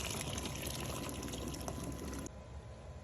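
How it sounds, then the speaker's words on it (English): Water poured into a cooking pot of beans with oil, salt and onion: a steady, loud rushing splash that stops abruptly near the end, leaving a quieter background hiss. "I'm going to add additional water to cover this"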